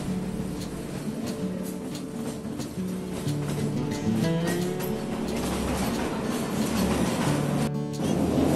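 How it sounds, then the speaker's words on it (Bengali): Kalka–Shimla narrow gauge toy train running through a long tunnel, a moderate, enclosed rumble with faint rhythmic rail clacks and a low droning tone that swells slightly midway, ending in a sharp brief clatter. "আমরা এখন যাচ্ছি এই রুটের সেকেন্ড লংগেস্ট টানেল দিয়ে"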